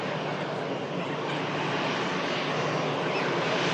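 EasyJet Airbus airliner passing by at an airport, a loud continuous broadband engine roar that holds steady throughout, with no talking.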